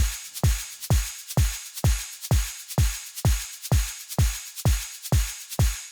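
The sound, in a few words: synthesized drum loop made in Phase Plant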